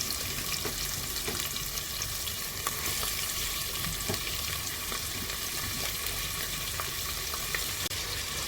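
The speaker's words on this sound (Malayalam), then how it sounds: "ഞാൻ അരിഞ്ഞു വെച്ചിരിക്കുന്ന സവാള ഇട്ട് കൊടുക്കുകയാണ്" Chopped onions hit hot oil in a pressure cooker for chicken biriyani, giving a steady, close sizzle and crackle that runs throughout with faint stirring clicks and no talk.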